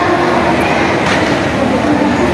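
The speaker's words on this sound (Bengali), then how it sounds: "এইখানে আমাদের ট্রেন দাঁড়িয়ে রয়েছে" Shatabdi Express standing at Howrah station, heard as a steady, loud broadband rumble of platform and rail noise with no distinct passing or braking events.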